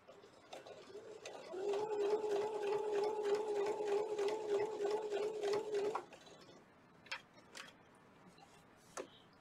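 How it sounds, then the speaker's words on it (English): A domestic sewing machine runs a steady line of top stitching on a pieced towel for about four seconds, a quiet even rapid whir, followed by a few soft clicks and handling noises. "I'm going to top stitch, like that, at the beginning"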